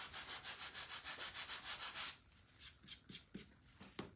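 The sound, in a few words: sanding paint off with the edge of a sander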